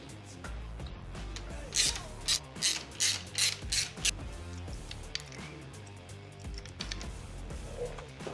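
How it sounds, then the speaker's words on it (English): Allen wrench turning out two bolts on a Harley-Davidson Road Glide during an exhaust mounting bracket install, giving a run of close, rapid ratcheting clicks with a louder burst of repeated clicks in the middle. "So you want to take these two out. Calls for a 1/4 Allen."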